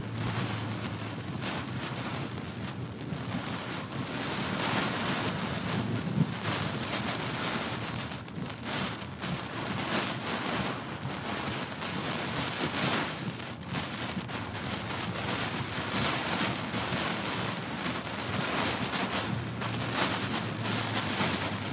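A strong storm wind gust roars steadily against the microphone near Weatherford, Texas, a dense, loud rushing that holds for over twenty seconds with slight surges and no talking.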